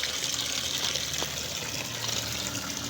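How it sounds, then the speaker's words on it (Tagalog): Salted elephant foot yam gets rinsed in clean water, a steady close gush and splash of running water that stays loud and even throughout, with no voices. "Ganyan po ang pagbabanlaw dyan dahil binabad natin sa asin."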